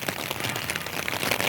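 Steady rain falling during a stormy day in the Philippines, a dense, continuous hiss of drops close by, with no voices.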